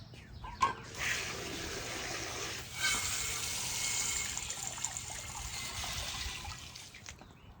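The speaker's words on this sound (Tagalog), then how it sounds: "Lagyan muna natin ng tubig." Water runs from a tap into a container in a home, a steady soft rushing flow with a splashy start and a brief surge partway through, fairly close and without talk.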